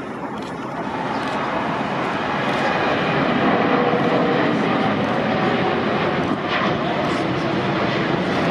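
Air Canada airliner in Disney livery departing LAX, a steady, loud jet engine roar building slightly as it climbs out, heard from a nearby hillside.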